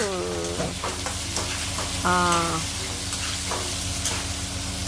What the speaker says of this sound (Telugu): ఓకే ఉల్లిపాయ వేగుద్ది, కొద్దిగా వేగింది